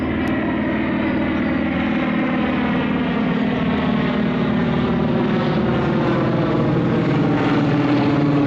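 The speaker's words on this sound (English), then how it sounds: "their movement was masked by the sound of a Ju-52 transport plane circling above" Ju-52 transport plane circling overhead, a steady, loud propeller-engine drone with a deep rhythmic throb that holds evenly throughout with no voices.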